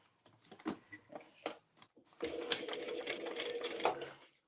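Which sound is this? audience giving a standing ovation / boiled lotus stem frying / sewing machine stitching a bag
sewing machine stitching a bag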